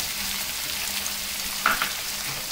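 Onion and green chillies frying in oil for Kerala-style beef fry, a close, even sizzle with a couple of brief louder crackles partway through. No one speaks.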